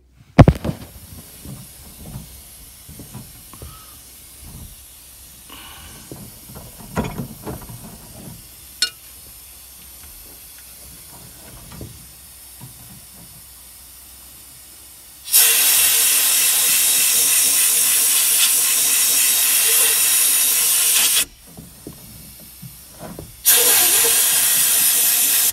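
Sand blasting on glass: two long bursts of loud, steady broadband hiss from the blast nozzle, the first about six seconds and the second a few seconds later, following quieter handling noises.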